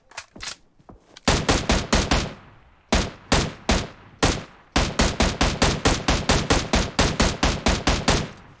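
Rapid bursts of M16 rifle fire in PUBG Mobile, short volleys followed by a long sustained string of shots, loud and close.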